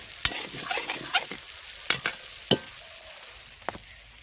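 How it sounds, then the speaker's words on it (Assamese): Meat cooks in a pot with a low bubbling sizzle, broken by sharp intermittent clinks and scrapes of stirring, quiet and close with no voices. "এয়া মাংস হৈছেগৈ আৰু 20 মিনিটমান সিজাম।"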